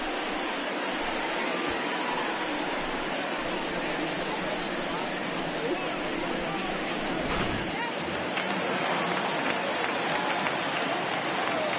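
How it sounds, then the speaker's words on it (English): A home crowd in a PS4 baseball video game cheers and applauds in a steady, broad roar that swells slightly near the end, running continuously under the game's voices. "No better way to get the home crowd into it right out of the gates."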